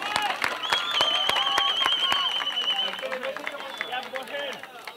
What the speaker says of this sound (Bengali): একটা জোরে করতালি চাই।